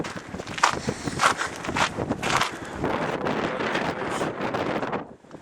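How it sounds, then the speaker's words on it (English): Strong gusts buffet the microphone at an outdoor shooting range, producing a loud rumble that rises and falls unevenly before easing off. "this fucking wind around here is ridiculous"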